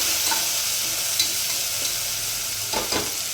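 Bright, constant sizzle of fresh ginger garlic paste frying in hot oil, with a couple of soft stirring scrapes, close by, while cooking mutton biryani in a pressure cooker.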